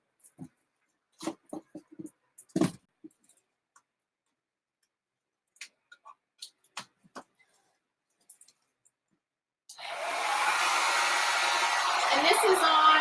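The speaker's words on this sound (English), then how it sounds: "I'm going to try my dryer." A hair dryer on its cool setting blows over an alcohol ink painting on paper, starting abruptly after scattered quiet clicks and taps and running as a steady, close whoosh.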